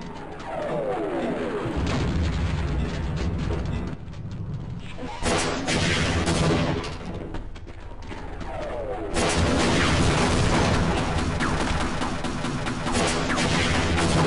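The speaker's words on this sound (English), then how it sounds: "That's a lot of rockets" Heavy rocket explosions in Half-Life, booming and rumbling in long loud waves with crashing debris, a brief lull midway before a sustained barrage resumes.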